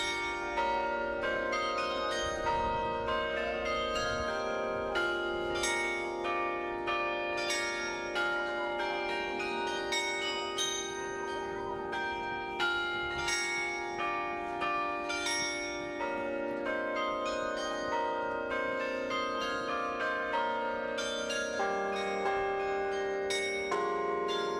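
Carillon bells cast by a family of bell founders ring out in a steady melodic run, struck tones overlapping with long ringing decay, fairly loud and with no voices.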